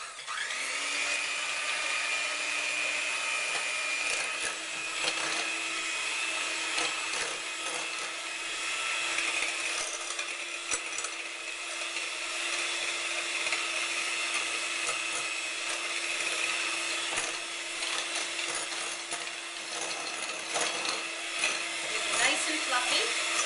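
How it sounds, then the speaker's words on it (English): An electric mixer whipping egg whites in a bowl for cake batter, a steady high motor whir with a constant tone, close and continuous for the whole stretch, with no talk over it. "we're going to fluff up our egg whites"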